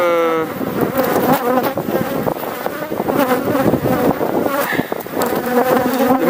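Honeybees drone loudly and densely around an open beehive frame during a hive inspection. Individual bees zip close past amid the continuous swarm buzz.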